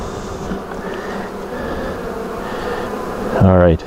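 Honey bees buzz steadily and close during a May hive inspection, a dense continuous drone that swells louder near the end.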